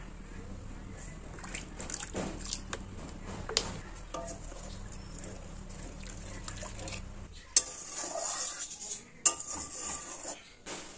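A curry with turmeric powder and oil being stirred in a pot at home, soft scraping and light clinks of a spoon against metal over a low sizzle, fairly quiet with a few sharper knocks near the end.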